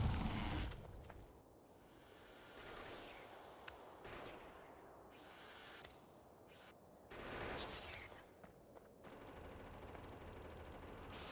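In Factorio, a submachine gun and defensive turrets fire at worms and biters in sustained, rapid bursts of fairly quiet gunfire. Occasional heavier explosive thuds break through the chatter of shots.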